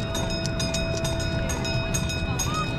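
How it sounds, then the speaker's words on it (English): A train rolls past a railroad crossing at the Cincinnati Zoo, a steady close rumble with rhythmic wheel clatter and a faint high metallic whine running under it, without speech. "Ah, railroad crossing."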